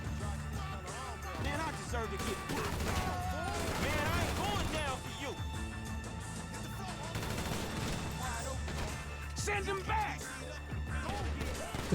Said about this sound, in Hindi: गोलियां चलाने में हम माहिर हैं भाई